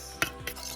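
A spoon clinks against a bowl while mixing yeast, sugar and warm water for pizza dough. Two or three quick, close metallic taps ring out alone.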